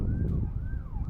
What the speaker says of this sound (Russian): Едет там скорая или полиция, какой звук